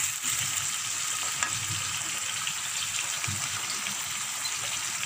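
Ginger-garlic paste fries in a pan, giving a continuous, even, hissing sizzle at close range with faint stirring scrapes and no speech.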